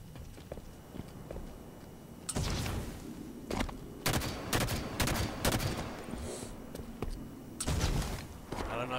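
Bursts of gunfire in a competitive shooter match, sharp cracks and short rapid volleys over a busy game soundscape with footsteps, loud and close, clustered through the middle of the stretch.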